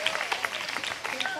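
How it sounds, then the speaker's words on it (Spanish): A church congregation claps in praise of Christ, brisk scattered hand claps close by with a voice under them, lasting just over a second. "Denle fuerte ese aplauso si es para Él"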